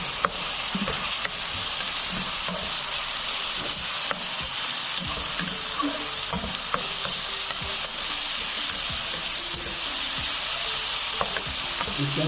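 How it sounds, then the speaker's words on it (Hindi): Chopped tomatoes with ginger and garlic paste sizzle and fry in a pot, a continuous close crackle broken by the scrape and clatter of stirring throughout. "इसको अच्छी तरह भूनेंगे हम।"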